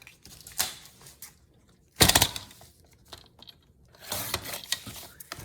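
Paper cut close up while making a pocket folio from a single 12x12 sheet. There are three short bursts of crisp snipping and crinkling separated by quiet pauses, with no speech over them.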